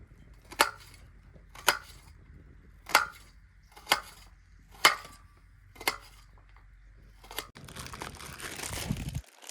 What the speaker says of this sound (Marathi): त्याच्यामुळे आपण कांदा कापून घेऊ पहिल्यांदा